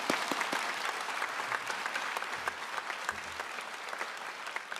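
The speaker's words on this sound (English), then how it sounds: "Let's give everyone a round of applause." Audience applause at an elementary school grade 5 promotion ceremony, steady dense clapping from a seated crowd filling the room for about five seconds with no talking over it.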